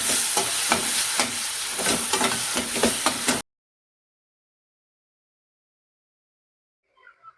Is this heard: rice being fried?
yes